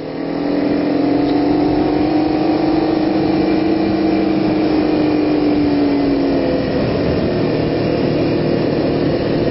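A motorcycle rides along Mulholland Drive, its engine holding a loud, continuous drone with a rising then easing pitch, heard steadily from the rider's position with wind rush underneath.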